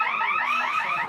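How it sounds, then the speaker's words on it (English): A loud electronic fire alarm during a yearly drill, with rapidly warbling, wavering tones sounding continuously for about a second. "and now there's a fire alarm."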